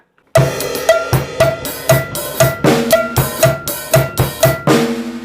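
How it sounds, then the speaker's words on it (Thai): A snare drum plays a brisk, repeating mor lam rhythm pattern of sharp, ringing hits, loud and close, with no voices. "เสียงสแนร์โต๊ะตึกตึกตึกตึกตึกโต๊ะ ถ้าเราตีแบบค่อยมือนะ"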